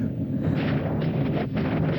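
A Star Wars film explosion, heard as a deep, sustained rumbling blast with a roaring low-end wash and no talk over it.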